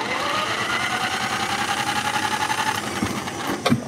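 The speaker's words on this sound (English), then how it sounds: "This pony engine's kind of touchy sometimes. Sometimes you gotta choke the heck out of it." A small pony starter engine, touchy and just choked, runs at a steady, fast, buzzing idle close by, loud and continuous, with a couple of clunks near the end.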